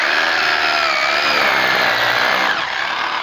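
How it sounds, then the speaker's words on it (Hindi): A new 2020 hammer drill bores a roughly 15 mm hole, with a loud, continuous, gritty whine and hammering rattle that runs steadily for over three seconds and eases slightly near the end, with no talking. "ये बड़ी आसानी से होल कर देता है, और करीबन ये होगा करीबन 15 mm का होल कर देता है ये"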